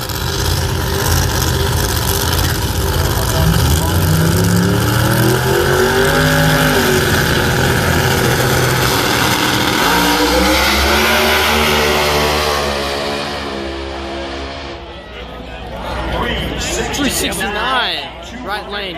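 A Corvette with a big screw blower and a twin-turbo 1970 Camaro rev and launch at a pro mod drag race, loud roaring engines sweeping up in pitch over a crowded track, with an announcer talking throughout.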